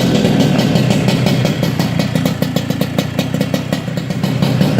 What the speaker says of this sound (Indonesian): Oke, kita coba hidupin yang Air King-nya ya.